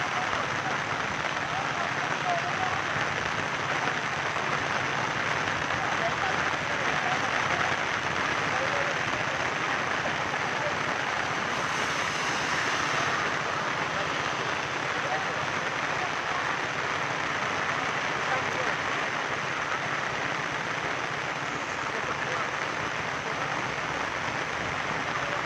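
Heavy rain pours down steadily during a flood in Kuantan, a dense, even hiss that fills the whole span without pause, fairly distant and soft.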